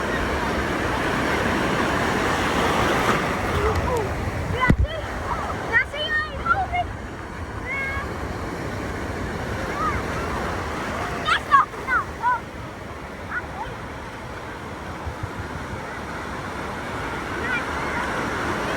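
Ocean surf at Cocoa Beach, a steady wash of breaking waves with heavy wind buffeting the microphone and occasional sharp gusty bumps throughout.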